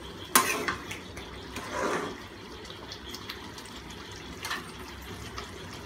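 Butter being mixed into palak paneer in a pan, with soft stirring, scraping and wet sloshing and a clack of a utensil against the pan near the start, close and fairly quiet.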